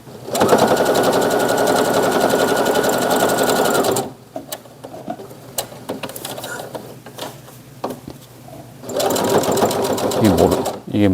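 Sewing machine topstitching a corduroy mini dot bag, loud close bursts of rapid needle chatter at the start and again near the end, with quieter handling noises of fabric in between.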